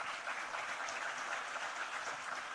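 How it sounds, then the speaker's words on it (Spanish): Steady, dense audience applause after a call to honor the INAPA team at a public address in Duarte province, sustained and even at a moderate distance with no voices. "un fuerte aplauso para ellos"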